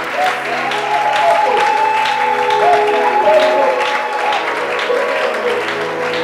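A church congregation bursts into sustained applause and cheering to acclaim the Lord, a dense steady roar of clapping with raised voices mixed in, loud and continuous throughout.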